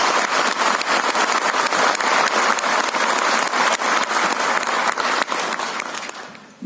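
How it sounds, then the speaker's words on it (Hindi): A large audience at the National Panchayat Awards ceremony at Vigyan Bhawan breaks into thunderous, continuous applause for the President of India, a loud dense roar of clapping that tapers at the very end. "मैं एक बार तालियों की गड़गड़ाहट से आपका सम्मान करूंगा।"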